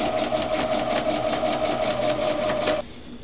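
Sewing machine stitching along chalk lines of a fabric pot holder, a fast steady whirring hum with rapid needle ticks that cuts off abruptly near the end.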